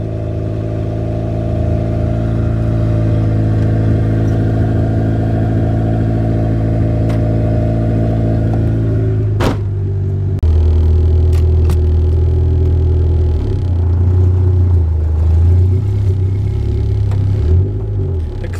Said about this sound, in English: so it's a bit of a rough cold start, and it's open header, so. There we go. Just gotta hold the throttle a little bit.